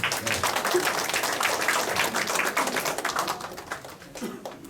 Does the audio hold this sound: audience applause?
yes